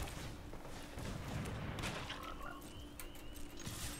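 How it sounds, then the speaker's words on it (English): Poison Dart Frog card croaking in the MTG Arena digital card game, a short ribbity croak over a steady layer of game ambience and mechanical clicks, with no talking. "Poison Dart Frog."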